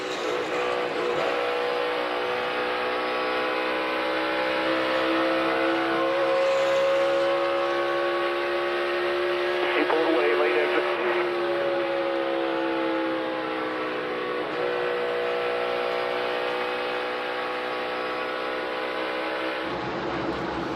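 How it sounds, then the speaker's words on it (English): NASCAR race cars at full throttle on a 1.5-mile speedway during the 2022 Coca-Cola 600 give a steady, droning engine roar with rising and falling pitch as the pack passes, continuous and fairly loud throughout. "listen to these guys and how they're pedaling, driving these cars to the throttle around this racetrack."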